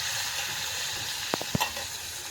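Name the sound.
koi fish frying in hot oil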